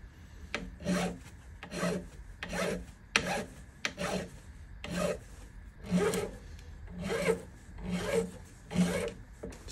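A medium 3M abrasive pad rubs along the rounded back of a guitar nut on a 1953 Gibson L-50 under restoration, in about a dozen steady rasping strokes, each a short swish with a regular back-and-forth rhythm, close and moderately loud.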